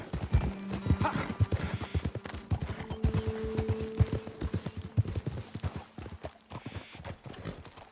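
Horse hooves clip-clopping at a steady riding pace in Red Dead Redemption 2, loud and close, with faint mechanical sounds and a brief whinny-like tone mixed in; no one speaks.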